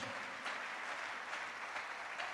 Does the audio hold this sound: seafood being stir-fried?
no